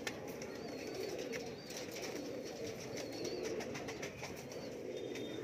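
A teddy pigeon released and flapping its wings, a soft fluttering whir amid faint ambient noise and light cooing or chirps, fairly quiet throughout.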